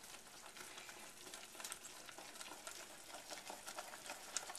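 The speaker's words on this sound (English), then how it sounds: "I'm going to stir it with all my might until it's incorporated" Flour being stirred hard into a buttery pâte à choux dough in a pan, a steady close scraping and soft sizzling texture with no voices.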